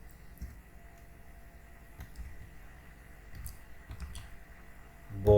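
Keyboard keys clicking softly and irregularly as code is typed, a faint scattered tapping under a quiet room hum, with a louder thump at the very end.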